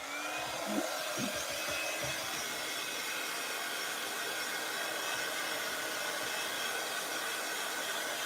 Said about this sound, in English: Just going to pop the heat tool on quickly.